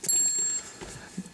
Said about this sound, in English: It's comedy timing. Bike bell.